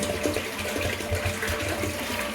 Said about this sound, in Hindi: पानी जो है मैंने इसमें डाल दिया है।